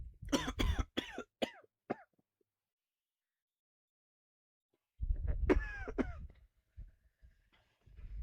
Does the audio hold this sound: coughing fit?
yes